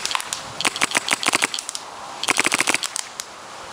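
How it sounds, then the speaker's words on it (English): A paintball gun mounted on a drone, the MacDev Tactical Drone DX fitted with a cloud dampener, fires two rapid bursts of sharp, snappy shots in quick succession, close and loud with a short gap between bursts. "Only paintballs coming out."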